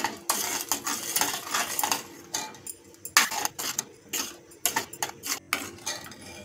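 Metal spoon stirring and sautéing kheer with sugar in a pan for an Ashadhi Ekadashi fasting meal, giving a steady run of light clinks, scrapes and taps against the pan, close and fairly soft, with no talking.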